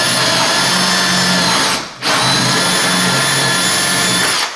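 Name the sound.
drilling a hole in a door with a drill bit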